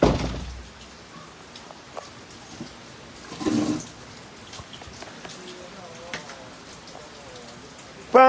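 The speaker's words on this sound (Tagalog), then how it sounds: "Grabing ulan, guys." Steady rain hisses and patters on surfaces, with occasional louder splashes and drips and a brief swell partway through.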